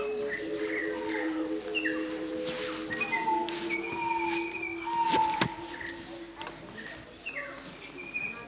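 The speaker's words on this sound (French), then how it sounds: "Dans mon jardin on entend chanter les oiseaux." Birds sing in a garden in scattered whistled phrases and chirps, moderately faint against a soft background hiss, with repeated tonal notes and a few sharper calls.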